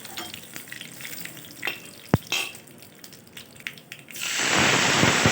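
Scattered pops and crackles of mustard seeds, cinnamon, red chilies and garlic hitting hot oil, a sharp clink of a utensil, then a loud, steady sizzle building near the end.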